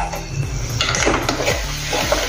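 Food stirred in a frying pan while cooking mooli matar sabji with tomato paste and water, a spoon scraping and clinking against the pan over a soft sizzle, close and continuous.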